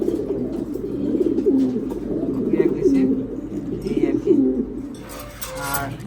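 A grizzle pigeon coos in a loft, close and fairly loud: a run of soft, throaty rolling coos in a steady rhythm, followed by a brief rustle near the end.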